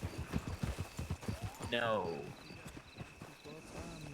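Horse hooves clip-clop in a steady walking rhythm in a Western video game, pausing briefly as someone speaks over them, then carrying on softly.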